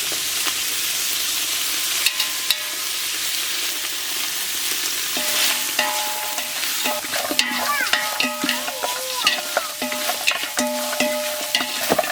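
Ginger garlic paste and chili paste frying in oil for fried beef biryani make a loud continuous sizzle, joined later by stirring scrapes and metallic clinks of a spoon against the pan.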